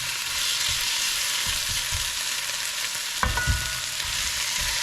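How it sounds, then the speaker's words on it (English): Canned corned beef frying in a hot pan, a loud continuous close sizzle that flares briefly with a sharper burst partway through as the meat hits the heat, with no voices. "At this point, we're going to put our corned beef in there."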